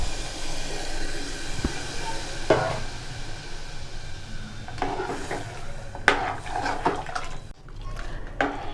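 A spoon stirs coconut milk through green peas kuruma in a pot, soft scraping and sloshing over a low simmering sizzle, with occasional clinks of utensil on metal.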